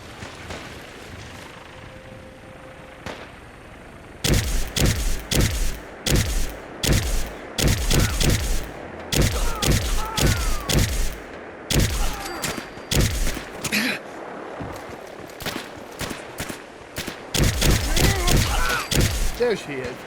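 Rapid bursts of gunfire in Fallout 4 during a survival-mode fight, loud repeated volleys in irregular clusters after a quieter opening, with faint talk mixed in.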